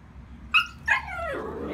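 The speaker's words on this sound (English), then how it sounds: "And she gave me a little bark, which is very cute." A Vizsla puppy gives two short, high yips close by, followed by a longer whining bark-like note, with no one talking.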